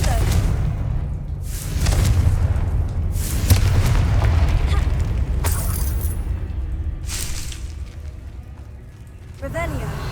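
Confringo fire spell from Hogwarts Legacy, cast in combat as several booming blasts with sharp bursts over a dense low rumble of game effects, with a voice talking through it.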